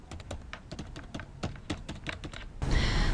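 Rapid keystrokes on a computer keyboard as a past passenger number is typed into a cruise reservation system, close and clear, ending with a louder rustling burst.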